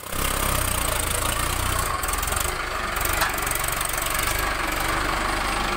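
A Mahindra Arjun 555 DI tractor engine idles steadily nearby, a continuous loud, low diesel rumble with slight knocking texture and no talk.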